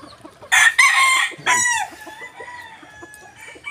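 A pure Raptor Sweater broodcock rooster crows once, loud and close, with a drawn-out, falling final note, followed by quieter farmyard background.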